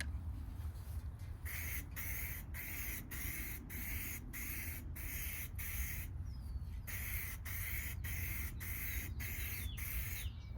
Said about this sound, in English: let's spray the first coat of the semi-gloss high heat.